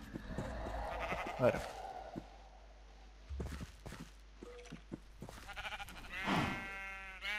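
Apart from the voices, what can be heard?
sheep bleating in a Terraria/Minecraft-style video game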